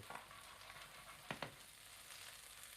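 Quiet, steady frying hiss from a pan searing torrijas, with a couple of brief clinks or stirs midway, no voices.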